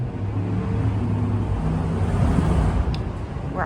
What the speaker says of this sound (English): We're obviously next to a very busy road.